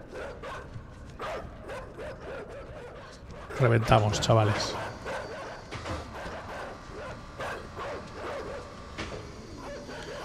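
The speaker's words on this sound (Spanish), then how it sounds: "Sí, ahora, perros. Venga, venid a mí ahora." Dogs bark in the side-scrolling video game Inside, a short cluster of loud barks in the middle against quieter game noises, with a person talking and laughing over it.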